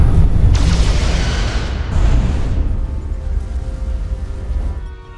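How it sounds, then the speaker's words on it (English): Photon torpedoes fired from a starship in Star Trek: Resurgence, a heavy booming launch that rumbles loudly, swells again briefly, then fades into a low drawn-out decay, with no voices. "Fire photon torpedoes!"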